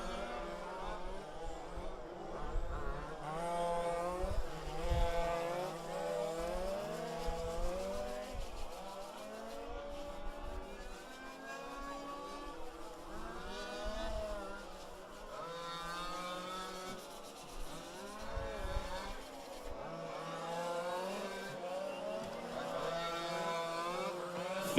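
Fifth-scale 4WD RC race cars run a track in a Spec A main, engines buzzing and whining as they pass and fade, with a commentator talking over the racing.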